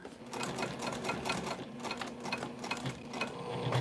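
A sewing machine stitches through thick cork bag material for a crossbody bag, a steady, close, rapid mechanical chatter that runs unbroken throughout with no talk.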